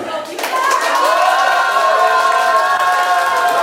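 Wedding guests at a reception applaud and cheer during a couples' contest, a loud dense burst of clapping mixed with shouts and voices that swells and holds for a few seconds.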